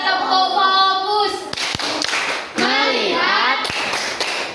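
Classroom students perform a focus clap routine: a handful of sharp, separate claps cut through children's chanting and talking voices nearby.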